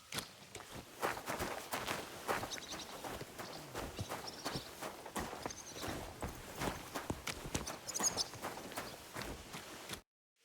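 Horse hooves clop in a steady trotting rhythm across the ground in Kingdom Come: Deliverance 2, close and moderately loud, continuing for about ten seconds before cutting off abruptly.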